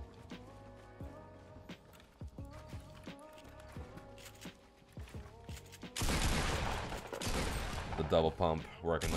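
Two pump-shotgun blasts from the Fortnite video game come in quick succession amid in-game footsteps and clatter. The loud burst of shots arrives late, over a busy backdrop of game sounds.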